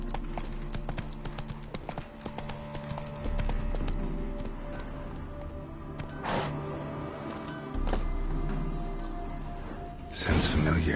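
Roach, the horse in The Witcher 3, gallops in a steady rhythmic clip-clop of hooves, with game speech and ambient effects layered over the running.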